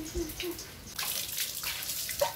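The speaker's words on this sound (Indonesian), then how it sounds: "Ini udah semua total udah disabun tinggal kita siram ini spionnya" Water splashes and pours over a soaped motorbike being rinsed at home, hitting the mirrors, front and seat in close, uneven gushes with brief splatters.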